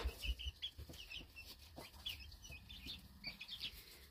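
Several Chinese Crested Silkie chickens cluck softly and steadily close by after being bathed, a few louder clucks and rustles standing out, with no talking.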